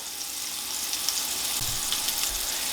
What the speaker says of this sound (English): while the steak is getting this sear